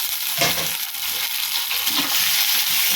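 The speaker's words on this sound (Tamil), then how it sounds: "வெங்காயம் நல்லா வதங்கிருச்சு. இப்போ தக்காளி சேர்த்துக்கலாம்." Tomatoes dropped into a pan of sautéing onions, giving a soft wet thud and crunch followed by a steady, fairly loud sizzle and stirring, with no talk.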